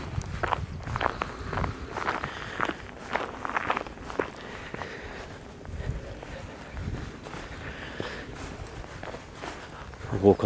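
Steady footsteps march along a hard path outdoors in a rhythmic series of close, crunchy treads, with light wind and background noise around them.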